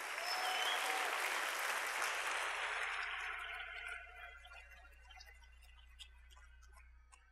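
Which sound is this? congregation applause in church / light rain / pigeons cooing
congregation applause in church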